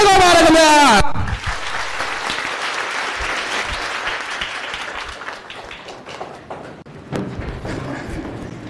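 Audience applause bursts out after a short stretch of amplified talk and stays as a dense, steady roar of clapping hands, swelling again near the end.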